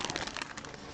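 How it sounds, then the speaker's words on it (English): Trading card being slid into a crinkling plastic bag, giving a dense, close rustle and crackle of thin plastic for about a second with no talk. "let's get that back in its little plastic bag"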